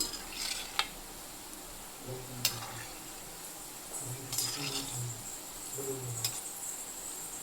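Gulab jamun balls frying in oil turning golden brown, a soft, faint sizzle with a few sharp clinks and scrapes of a spoon against the pan, close by and without voices.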